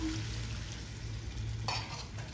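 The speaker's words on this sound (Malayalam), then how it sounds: "ഇനി ഇതൊന്ന് ഒന്ന് വഴറ്റാം" Vegetable curry masala with turmeric is sautéed in a pan, giving a faint, soft sizzle with a brief scrape of a stirring spoon near the end.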